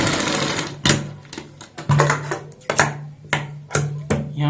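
A sewing machine runs a straight seam on a blouse sleeve in short, repeated bursts of stitching, each a quick mechanical whir that stops and starts about half a dozen times, close and fairly loud.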